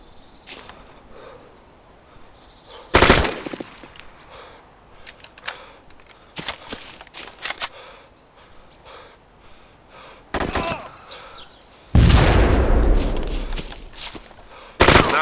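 Gunfire and explosions in the military game Armed Assault during an ambush on a Russian MVD patrol: sharp, loud bursts of shots and blasts at irregular intervals, with a sustained heavy roar near the end.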